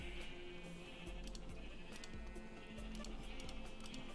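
Repeated sheep bleats from a Minecraft-style video game sound over a steady background hum, several short wavering calls in quick succession with faint clicking ticks scattered throughout.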